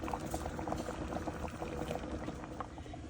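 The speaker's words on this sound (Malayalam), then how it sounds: "ഇനിയിപ്പം നമുക്കിത് ഊറ്റണം, വെള്ളം കളഞ്ഞ് ഊറ്റി വെക്കാം." Hot water gurgles and bubbles steadily as it drains from boiled tapioca, a continuous close-up liquid churning with no voices.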